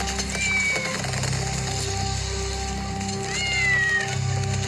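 A cat meows twice, two drawn-out, fairly close cries separated by a few seconds, over a constant low rumbling hum.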